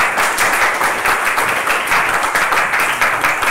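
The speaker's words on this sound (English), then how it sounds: "Give him an applause," Steady, dense applause from a seated audience fills a hall at a gun collectors' symposium in the Arms Museum of Liège. It stays even and sustained throughout, with no break or single standout claps.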